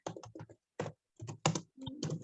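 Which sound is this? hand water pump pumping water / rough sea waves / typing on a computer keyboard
typing on a computer keyboard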